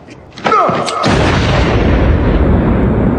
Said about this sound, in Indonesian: pria itu ternyata memakai rompi bom yang langsung ia ledakkan